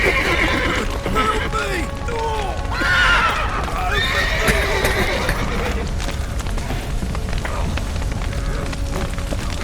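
Horses in The Witcher 3 whinny and neigh in agitated bursts beside a burning building with a collapsed roof, hooves clopping and voices shouting over the crackle.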